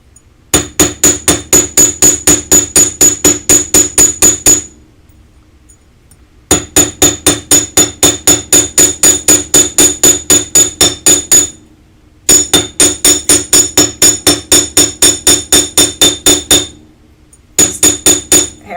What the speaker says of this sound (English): So we're going to hammer it to about half the thickness of your 16 gauge wire.